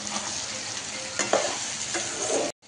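Potatoes are stir-fried in a pan for a crispy aloo fry, a steady close sizzle punctuated by a few scraping stirs before the sound cuts off abruptly near the end, no talking.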